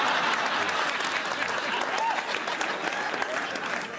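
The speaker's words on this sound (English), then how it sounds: "That applause lasted longer than the whole FBI investigation." A studio audience at a Bill Maher monologue claps and cheers in a sustained, dense roar of applause that holds steady for several seconds before easing slightly.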